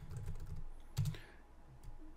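Quick keystrokes on a computer keyboard entering a command, a rapid cluster of soft clicks, one firmer tap and a few scattered presses, close and quiet with no voices.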